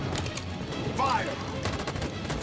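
Gunshots in Detroit: Become Human crack through a steady background of game noise, with a short voice in the middle and a cluster of sharp shots near the end.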